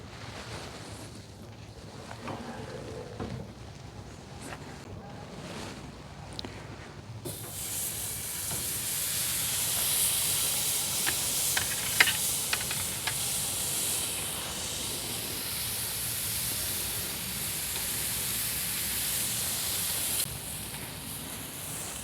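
Beef skirt steaks sizzle on a Hasty Bake Legacy grill, a sudden loud, steady frying hiss that starts partway through after quieter background noise and continues evenly with faint crackles, with no one talking.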